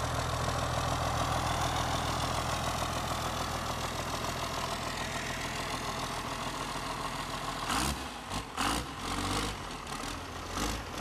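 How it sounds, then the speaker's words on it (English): A Cummins 12-valve diesel with a mechanical VE injection pump, fitted in a Jeep CJ5 rat rod, idles with a steady, loud, knocking rumble, then gives a few uneven louder surges toward the end. Nobody talks. "It's a Cummins 12-valve diesel. The VE mechanical pump, very, very basic motor."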